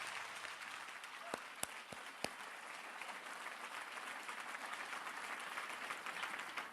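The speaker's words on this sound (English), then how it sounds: "Give a round of applause." An audience at a seminar applauds with steady, dense clapping lasting several seconds, heard at a distance. A few sharp louder claps stand out early on.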